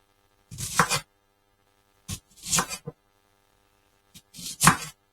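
A knife cuts an onion into chunky pieces on a kitchen board, close by, in three separate bursts of quick chops with short pauses between them.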